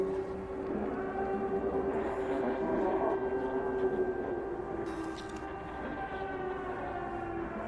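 Sirens in the video game Stray sound as sustained, steady tones layered over a dense mechanical drone, holding at a constant moderate level throughout with no voices.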